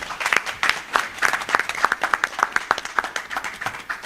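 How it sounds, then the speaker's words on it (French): An audience at a 2023 inter-state tournament draw ceremony in Conakry claps for an honoured guest, a moderate crowd of distinct hand claps, close and steady, without talk. "Applaudissez très fort ce soir pour le grand parrain, Monsieur Amadou Sara."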